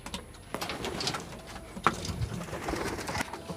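Soft pigeon cooing amid a busy background of rustling and light knocks, with a brief sharp sound midway; no talking.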